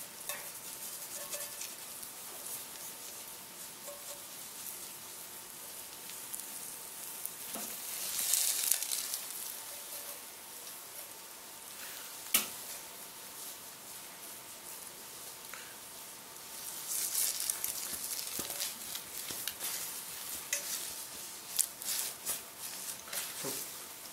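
Omelette rice frying in a frying pan, a steady soft sizzle with stirring and scraping, brief louder bursts as the pan is worked, no talk.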